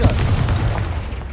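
Confringo explosive spell from Hogwarts Legacy going off as a single sharp, loud boom that quickly decays into a rumbling tail.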